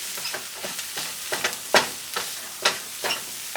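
Tomato paste sautéing in a pan with spices hisses in a continuous sizzle, broken by repeated scraping stirs and a few louder crackles, close by with no talking.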